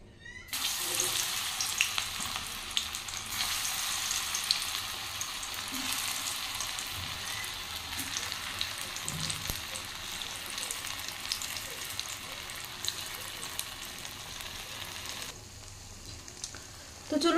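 Cauliflower pakoras fry in hot oil with a steady, bright sizzle that holds for about fifteen seconds before cutting off.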